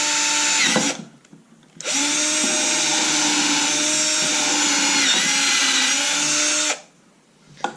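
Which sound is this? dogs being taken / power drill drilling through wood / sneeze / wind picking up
power drill drilling through wood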